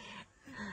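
A dog gives a faint, brief whimpering yip, somewhat distant, at a farmhouse.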